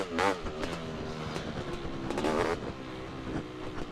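A two-stroke dirt bike engine revs hard through a power wheelie, its buzzy harmonic whine rising and falling in sharp surges up close, with no one talking.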